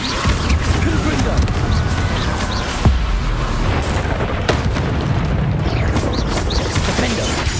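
A Confringo explosive spell cast in Hogwarts Legacy on Xbox Series S: a dense, continuous rumble of game combat with booming blasts and one sharp hit near the middle, over a steady low-end roar.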